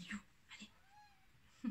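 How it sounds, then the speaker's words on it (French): A domestic cat meows a few short times close to the microphone, faint and brief, between quiet stretches of a French-speaking voice. "Ah, désolé, c'est mon chat."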